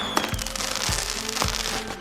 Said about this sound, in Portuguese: Fogos de artifício são a nossa praia.